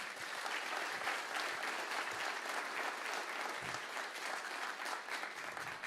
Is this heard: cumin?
no